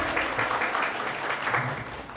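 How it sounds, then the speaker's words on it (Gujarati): An audience at a reading-room inauguration by the Vankar Seva Sangh in Chandkheda claps to welcome the president, a continuous medium-loud patter of many hands with faint murmuring underneath. "તાળીઓના ગણગણાટથી પ્રમુખ સાહેબને વધાવીએ આપણે"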